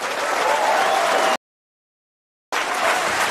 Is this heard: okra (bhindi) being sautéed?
no